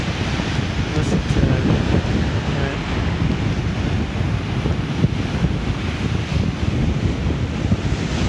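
Lake Superior waves pound and splash steadily on the shore near Copper Harbor, Michigan, as a constant loud roar of surf mixed with heavy wind buffeting the microphone.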